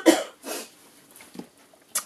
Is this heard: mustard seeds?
no